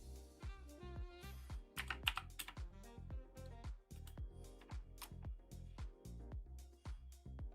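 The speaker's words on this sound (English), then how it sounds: "And my keyboard's not working properly." Rapid, uneven clacking of a computer keyboard that isn't working properly, with close, crisp keystrokes arriving in bursts and short pauses and no talking.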